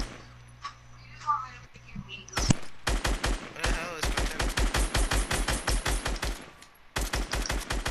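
Rapid gunfire in a first-person shooter: after a quiet opening with faint game ambience, bursts of sharp, evenly spaced shots rattle out loud and close, with only a brief pause before the firing resumes.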